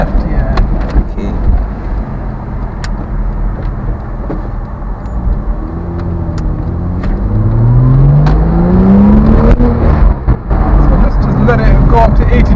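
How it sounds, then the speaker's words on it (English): Porsche Boxster S engine idling and then revving, a steady low drone that swells and climbs in pitch over the second half, loud and close with background road noise. "Just listen to that engine, boy."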